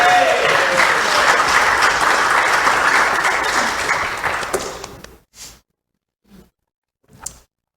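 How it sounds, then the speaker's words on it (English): A worship congregation claps in a long, dense burst of applause that holds steady for about four seconds, then thins and stops, leaving a few faint isolated knocks in near silence. "Let's give them a round of applause."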